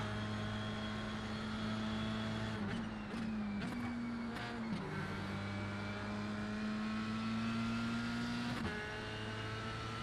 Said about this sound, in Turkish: Arabanın sesi gerçekten tiz. Yıllardır böyle. Garip bir sesi var evet.